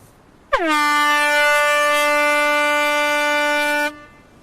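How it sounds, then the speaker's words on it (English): A single long, steady air-horn klaxon blast sounds loud and close, warning of lightning at a sports course. It starts abruptly, holds an unbroken tone for about three and a half seconds, then cuts off. "there will be one long burst on the klaxon"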